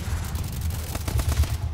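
A gun in a video game team deathmatch fires a quick automatic burst, sharp repeated shots close and loud in rapid rhythm.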